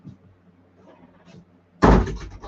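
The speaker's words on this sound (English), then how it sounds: "I'm gonna shut this door." A door is pushed shut with a single solid thud near the end, loud and close, following a quiet stretch of faint room noise and soft shuffling.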